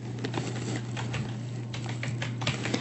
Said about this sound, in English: So I can type it in